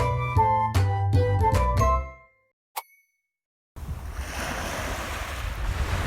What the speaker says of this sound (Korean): 시원한 파도 소리가 들리시나요?